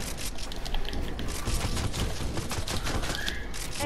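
Fast, dense gunfire from the video game Fortnite crackles without a break through a busy, loud game soundtrack, with no speech over it.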